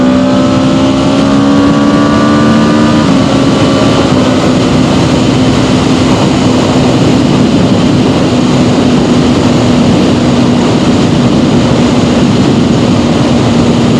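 A 2026 Aprilia RSV4 Factory sportbike being ridden, its engine a loud continuous drone that holds steady with a slight pitch change early on, layered over heavy wind rush.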